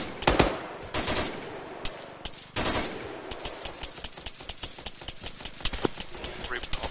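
Heavy machine gun fire in the military shooter Arma 3 crackles in sharp bursts at first, then a steady rapid stream of distant-sounding rounds continues under a faint voice.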